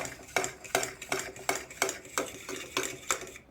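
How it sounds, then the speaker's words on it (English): A fork stirs a food-colouring solution in a container, tapping out about eight quick, evenly spaced clinks close by, with no talking. "I'm gonna get my fork and I'm gonna stir the solution"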